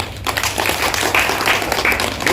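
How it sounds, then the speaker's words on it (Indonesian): Applause for chess players at a regional chess league final in Tangerang, a crowd clapping steadily and fairly loudly for a couple of seconds, with scattered sharper claps standing out. "Tepuk tangan buat para pecatur."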